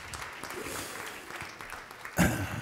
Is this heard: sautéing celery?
no